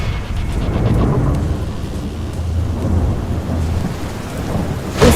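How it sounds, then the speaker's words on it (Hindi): Heavy downpour drumming steadily over a village at night with deep thunder rumbling beneath, loud and continuous, a sharper crack breaking through at the very end. "उसी रात मूसलाधार बारिश के बीच"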